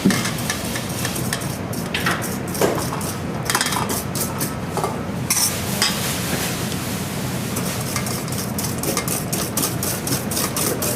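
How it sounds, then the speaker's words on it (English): Eggs being whisked together with a soda and salt mixture for a whipped cream chocolate cake, giving a steady rapid scraping and clinking of whisk against bowl that continues for the whole stretch with no talking. "Okay, so you're going to whisk it in. And now what we're going to do is we're going to add this into our eggs."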